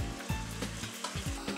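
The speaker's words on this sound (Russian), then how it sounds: "Перемешиваем и добавляем грибной отвар." Mushrooms, diced tomato and onion sizzle in a frying pan with butter while being stirred. A steady close-up frying hiss is broken by a few soft scraping stir strokes, with no talk.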